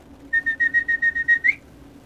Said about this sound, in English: I said dinner time whistle.